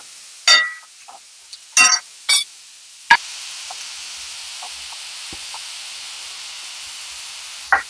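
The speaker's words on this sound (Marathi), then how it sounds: "हा कांदा त्याच्यात टाकते. चांगला लाल होईपर्यंत परतून द्यायचा." Chopped onion softly sizzling in a pan for paneer tawa masala, a faint steady hiss broken by a few sharp stirring scrapes and spoon clinks near the start.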